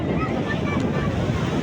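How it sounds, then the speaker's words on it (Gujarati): Sea waves roll in at Shivrajpur beach near Dwarka, a broad low wash of surf mixed with wind buffeting the microphone, brief and fairly loud. "અહીંયા દરિયાની લહેર"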